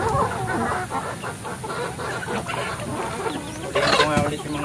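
A mother hen clucks with her chicks on a Filipino farm, repeated soft clucks and peeping in a close, busy barnyard setting, with a louder burst near the end.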